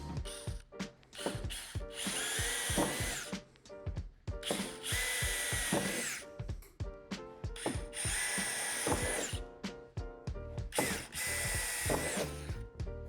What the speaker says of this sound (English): drill them out with the provided drill bit, only going through the first layer of metal